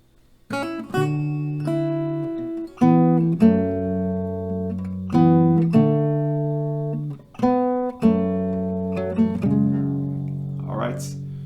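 A plucked acoustic guitar picks out a slow melody, single notes and small chords ringing and decaying one after another, clear and close.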